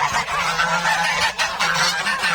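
A tense Çorum goose of the Kamacı line honks repeatedly up close, loud harsh calls coming in quick succession with no one speaking.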